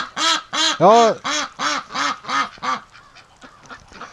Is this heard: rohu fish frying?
no